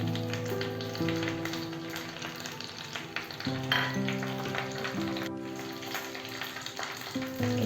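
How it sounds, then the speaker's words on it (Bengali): Curry leaves hit hot mustard oil for a tadka, crackling and sizzling steadily while a utensil scrapes and taps against the pan. "দেখো এই কারি পাতাগুলো এর মধ্যে আমি দিয়ে দিলাম।"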